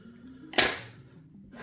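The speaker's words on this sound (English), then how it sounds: "I'm just going to cut off some excess to help." Excess tape being cut off while building a tape loop: one sharp, close snip in a quiet room, trailing off quickly.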